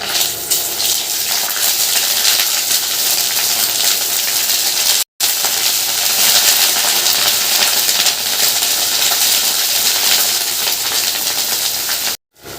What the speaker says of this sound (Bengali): তো দেখো আদা ছিটকাচ্ছে